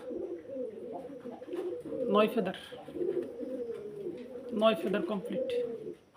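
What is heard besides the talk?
Iranian Togi fancy pigeons cooing at farm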